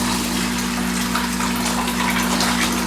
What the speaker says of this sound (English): lower the hose down towards the floor, towards the bucket here, and you see the water just starts flowing out